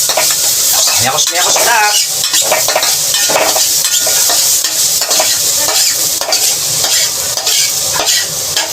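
Food frying loudly in oil in a pan, a dense, close sizzle with stirring and the odd utensil clink, while someone speaks briefly over it.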